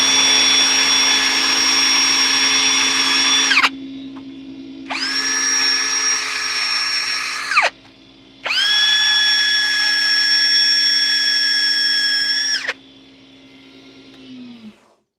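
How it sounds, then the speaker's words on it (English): Power sander working on wood in three bursts, a steady high whine that runs a few seconds, stops, then resumes, loud and close, with a low motor hum continuing underneath throughout. "Now we're going to do a quick sand."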